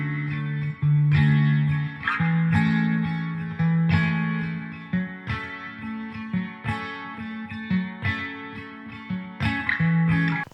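An acoustic guitar loop, heavily processed through EQ, a guitar amp and reverb, plays a repeating pattern of sustained, ringing chords and notes, loud and full with no talking.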